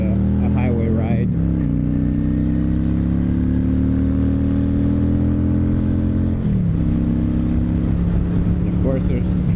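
A 2010 Honda Shadow Phantom motorcycle riding on a highway, its engine holding a steady loud drone that drops in pitch at gear shifts, with wind rush throughout.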